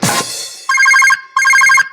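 A telephone bell rings in two short trilling bursts with a brief pause between, clear and close, after a quick opening noise.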